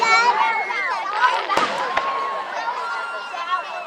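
Fireworks over Clearlake, California, two sharp bangs cutting through a background of people talking and exclaiming, with whistling and crackling streaks around them at moderate distance.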